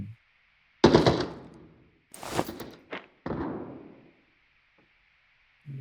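Several bursts of gunfire from a bot in the video game Arena Breakout Infinite ring out at a distance, separated by short pauses, over a faint steady background hum.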